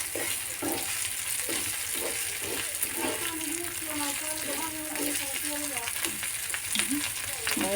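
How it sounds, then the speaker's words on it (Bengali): Fish curry with tomato and onion frying in a pan gives a steady, close sizzle with occasional stirring scrapes, and a faint voice underneath. "এখন এটাকে উল্টিয়ে কিছুক্ষণ তাপ দিয়ে ফুটিয়ে ফেলবো"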